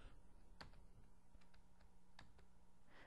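Computer keyboard arrow keys are pressed while rotating a part in SolidWorks, a few sparse, faint clicks spaced irregularly over a quiet background.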